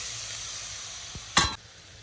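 Prawns dropped into frying masala, a steady soft sizzle that flares into a loud, brief burst of hissing as they hit the pan, then settles back to a quieter fry.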